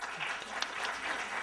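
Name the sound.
audience applause welcoming a conference speaker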